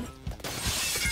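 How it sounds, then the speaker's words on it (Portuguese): Glass shatters inside a Roblox shooting game: a sudden bright crash of breaking panes that keeps rattling and ringing for most of a second after a soft thump, fairly close and with no talk over it. "a galera tá quebrando o vidro"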